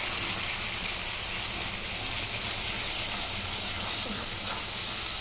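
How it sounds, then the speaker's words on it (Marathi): Tomato paste frying in a pan with onion, garlic and ginger, giving a steady, dense sizzle that holds at an even level throughout, close and without talk. "आता ही टोमॅटोची पेस्ट मी टाकून घेते."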